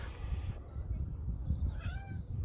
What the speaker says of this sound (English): Oh, Mr. Meow.